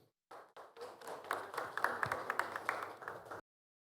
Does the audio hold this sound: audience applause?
yes